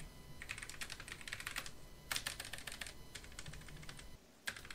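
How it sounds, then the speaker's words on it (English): Rapid typing on a red low-profile mechanical keyboard in bursts, crisp clicky keystrokes with short pauses between runs, close and fairly quiet. "So I got this low-profile mechanical keyboard."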